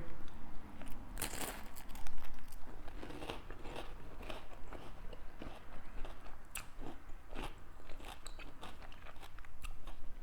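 Crunching bites of a saltine cracker spread with butter and topped with radish, loud close-up crackly snaps followed by steady chewing and crinkly crunches.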